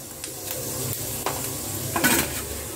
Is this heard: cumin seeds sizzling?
yes